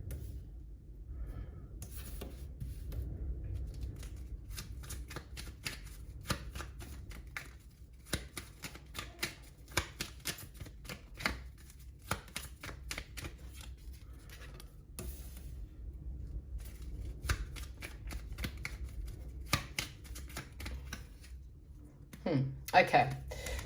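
Tarot cards being gathered and shuffled, soft repeated riffling and tapping clicks in an irregular rhythm, fairly quiet and close, with a voice speaking quietly at times.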